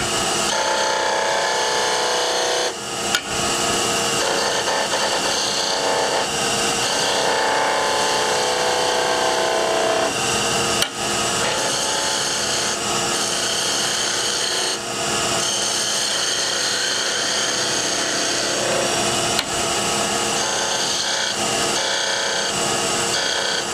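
A parting tool cuts a 3/8 inch wooden shaft spinning on a lathe, a steady close rasping scrape that runs without a break, with a few brief clicks and catches scattered through it.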